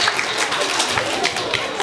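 An audience at a jubilee celebration in Meshchovsk claps, with a dense, continuous patter of many hands filling the short stretch at an even, lively level.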